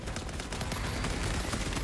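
Heavy bolter fire in a video game, a steady, dense barrage of rapid shots rolling on without a break, loud and close, with no voices over it.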